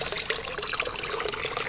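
Water trickles steadily from a pipe emerging at the base of a stone structure outdoors at a campsite, a continuous close splashing with no voices.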